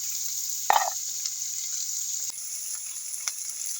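Small shallots sauté in a pan, a steady high hiss with one sharp spatter burst early on and a few faint stirring knocks. No one talks.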